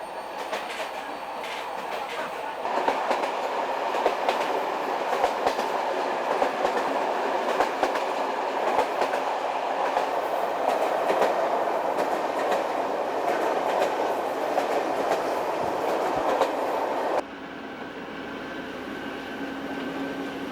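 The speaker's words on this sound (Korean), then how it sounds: "기차가 산악 지역에 들어섰군요." A passenger train runs through mountainous country between Aleppo and Latakia in Syria, a steady rumbling roar with rhythmic clickety-clack of wheels over rail joints, heard from inside and continuing throughout with an abrupt drop in level near the end.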